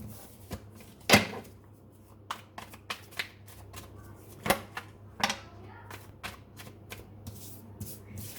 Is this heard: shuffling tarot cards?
yes